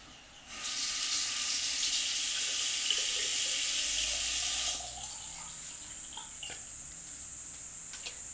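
A tap gushes water from a bathroom faucet, loud and steady for several seconds before the flow eases to a softer stream.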